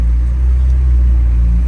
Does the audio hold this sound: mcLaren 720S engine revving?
yes